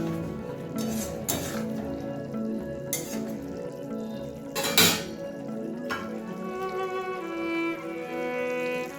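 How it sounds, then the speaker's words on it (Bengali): A spatula stirs egg in a pan, the metal clinking and scraping against the pan in a few sharp, close knocks spaced a second or two apart, over a low background hum. "ডিমটাকে একটু নেড়ে নিলাম।"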